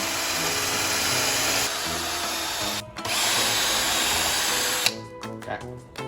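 An electric drill whirs steadily at high speed while building a cat tree, with a brief stop near the middle, then it restarts and ends in short, choppy bursts.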